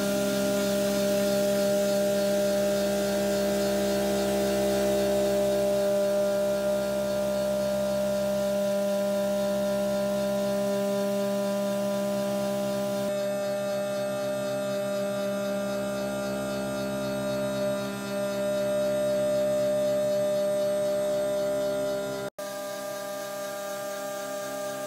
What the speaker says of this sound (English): Carbide insert end mill did a great job of finishing off the surface of the fixture plate.